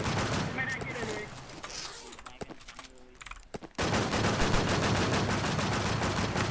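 Video-game gunfire crackles in rapid bursts amid a dense, loud mix, dropping briefly before a harder, sustained barrage returns; a voice is faintly present underneath.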